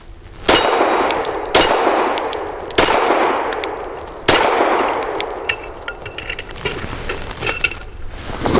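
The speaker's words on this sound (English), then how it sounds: "8 rounds. Same Blazer 115 grain, and I'm gonna sandbag low for my shots." A Tisas PX-9 pistol fires Blazer 115 grain rounds, four sharp, loud shots spaced roughly a second apart, each followed by a ringing metallic decay, then faint clinks afterward.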